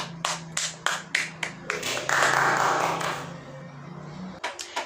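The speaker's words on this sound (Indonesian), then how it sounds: "Tepuk tangannya dulu" A small group of students clapping in a classroom, starting with a few separate sharp claps, then a brief burst of fuller applause before trailing off into a few more scattered claps.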